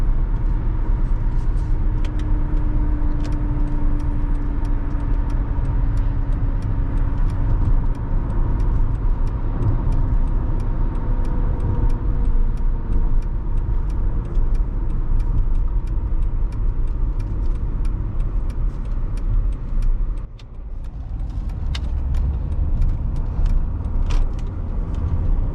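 A 2007 Mercedes E320 BlueTec diesel pulls smoothly at under half throttle, a steady low cabin hum with a faint rising whine and one brief dip partway through.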